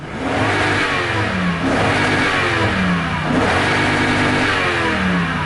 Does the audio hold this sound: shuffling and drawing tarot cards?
no